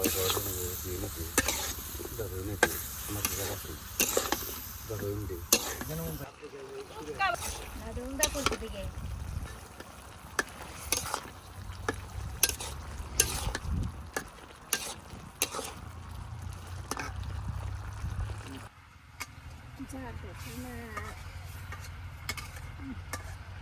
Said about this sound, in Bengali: সবকিছু ভালোভাবে কষে নিই।